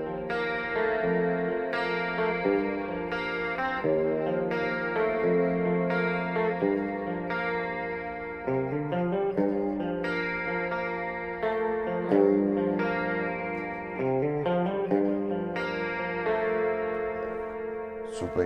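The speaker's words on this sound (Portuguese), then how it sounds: "E aí eu vou adicionar um chorus de estéreo, um delay e um reverb." Electric guitar played through a Blackstar ID:Core amp with stereo chorus, delay and reverb, sustained arpeggiated chords ringing continuously with shimmering, echoing tails, loud and steady throughout.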